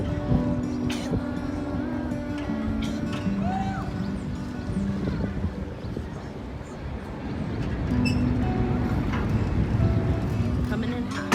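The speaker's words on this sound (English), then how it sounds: "Nice little ferry ride." A ferry boat cruises over water near Labadie, Haiti, with a low, continuous engine and water rumble, while people talk in the background.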